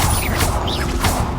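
Incendio fire spell cast in Hogwarts Legacy, a short burst of whooshing flame with crackling impacts, loud and close, with no talking.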